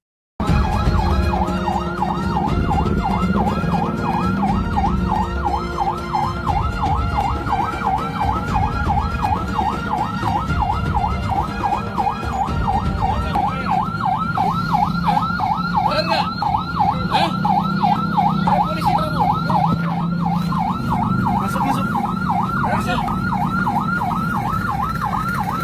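An ambulance siren wails continuously in a steady repeating rhythm, loud and close, blending with road traffic noise on a busy street, with no talking.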